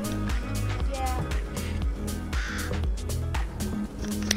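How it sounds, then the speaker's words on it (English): A crow caws several times in a video game, harsh repeated calls over dense game sound and music, with people talking throughout. "Imagine if you could ride a bird in this."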